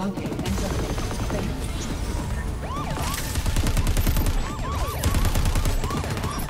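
Bursts of gunfire from Crackdown 3, rapid repeated shots and rattling volleys under a continuous busy mix of game sounds, fairly loud and close with a voice talking over it.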